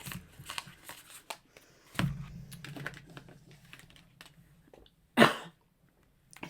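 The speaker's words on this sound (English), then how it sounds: "Excuse me, I just had a cough." Amid soft clicks and rustling, a single sharp cough bursts out near the end, loud and close, followed by quiet.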